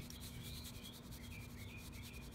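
A brush rubbing a very thin coat of paint into a cement surface makes a steady, close scratchy scrubbing that continues without a break.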